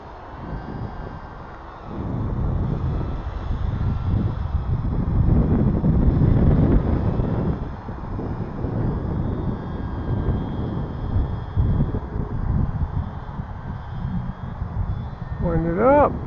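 Gusty wind buffets the microphone during a small E-flite UMX Beast model plane flight outdoors, a rough low roar that swells and fades, with a faint high whine of the tiny electric motor throughout.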